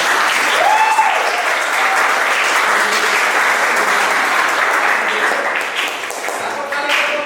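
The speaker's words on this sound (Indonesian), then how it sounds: "Sekali lagi tepuk tangan." Loud, continuous clapping from a school gathering at SMKN 1 Adiwerna fills the space for several seconds, with a brief tonal sound early on and scattered voices under the applause.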